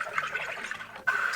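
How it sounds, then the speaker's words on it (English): A soda maker kitchen gadget carbonating water gives a close, steady hissing gush that breaks off for an instant and then surges again, with no talking. "now we're gonna sparkle the water"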